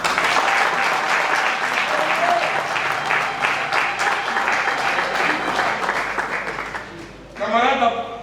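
An audience at a political party meeting in Kilamba Kiaxi breaks into sustained applause, a thick, steady clapping that slowly thins toward the end as a voice comes in over it.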